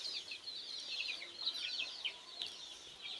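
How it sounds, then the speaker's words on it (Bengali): Tiger hens on a farm next to a coconut garden cluck close by, with short overlapping clucks and calls coming in a busy, continuous patter. "আর এই যে আমার টাইগার মুরগিগুলা"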